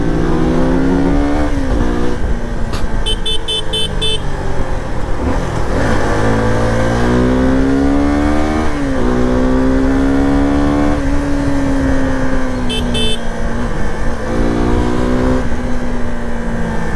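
A 2024 Suzuki V-Strom motorcycle, about 167 kg, accelerates hard while being ridden, its engine note climbing repeatedly through the revs and dropping at each gear change, loud and close with steady wind and road noise.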